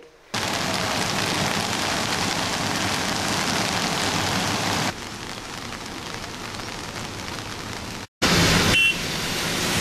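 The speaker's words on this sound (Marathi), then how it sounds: "धो-धो पाऊस आणि वेगवान वाऱ्यामुळे समुद्रही खवळला" Heavy rain with strong wind pours down in a loud, steady broadband roar, briefly cut off near the end before resuming just as strongly.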